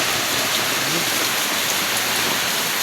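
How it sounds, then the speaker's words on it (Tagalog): Heavy typhoon rain pours down in a dense, steady hiss, loud and unbroken from start to finish. "agad dito kagad yung lakas ng ulan oh"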